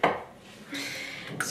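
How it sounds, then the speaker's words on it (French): A saucepan being rinsed at a kitchen sink before cooking pasta: a short metallic clank, then a steady hiss of running water and a final knock of the pan, close by with no talking. "Je vais rincer ma casserole"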